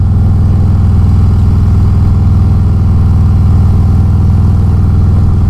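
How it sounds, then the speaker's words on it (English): A 2022 Harley-Davidson Road Glide Special idles up close with a deep, loud, throbbing V-twin rumble that stays steady and unbroken throughout. "I like listening to the engine."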